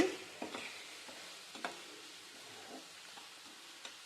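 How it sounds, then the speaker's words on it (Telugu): Onions frying in a pan with turmeric and salt, a quiet steady sizzle broken by a few soft scraping stirs, close and without talk. "ఇప్పుడు ఈ ఆనియన్స్ కొంచెం వేగిన దాకా ఉంచుకోవాలి మధ్య మధ్యలో ఆనియన్స్ని ఇలా కలబెట్టుకుంటూ ఉండాలండి"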